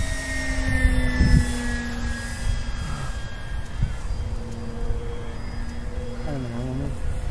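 A Dynam Pitts Python RC airplane flies overhead, its steady engine whine holding a constant drone that shifts slightly in pitch as it passes, heard outdoors at moderate distance with a voice speaking briefly.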